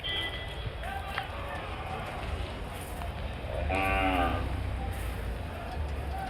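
A single loud moo from a calf or cow rises near its end amid the busy background of a weekly Thursday cattle market in Krosuru, where calves, cows and buffaloes are traded.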